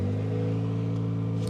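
A 2025 Chevrolet Colorado ZR2 pickup engine idles after a cold start in a snowstorm, a steady, close, low droning hum with constant tone throughout.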